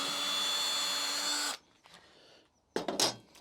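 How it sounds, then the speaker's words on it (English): A power drill drilling out a leftover copper bit of nail in a wooden piggy bank, a steady loud whine for about a second and a half, then a pause and short bursts of drilling. "So all I've got to do is drill out that last little bit of metal"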